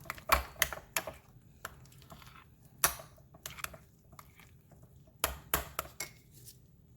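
Seasoning being mixed into deviled egg filling in a bowl: a series of sharp, irregular clicks and taps of a utensil against the bowl, close by and alone, clustered in quick bursts with short pauses.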